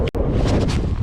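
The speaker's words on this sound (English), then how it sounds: "Wind is destroying me right now." Strong gusty wind buffeting the microphone on a bridge over water while fishing, a loud continuous roaring rumble with a brief dropout near the start, no talk.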